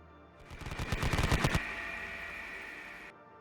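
A rapid burst of light machine gun fire, about a dozen sharp close shots in quick rhythm, dubbed as a sound effect in a Konflikt '47 tabletop battle, followed by a lingering hiss that fades out.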